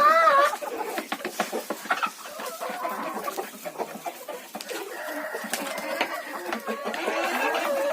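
Several roosters cluck and squawk close by in an agitated, overlapping chorus, with sharp bursts scattered throughout.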